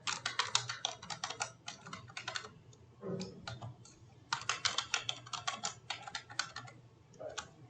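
Computer keyboard typing as a token password is entered at an administrator login, heard as quick clusters of close, crisp key clicks with a short pause in the middle, and no one speaking.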